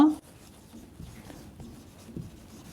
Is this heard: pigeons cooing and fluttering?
no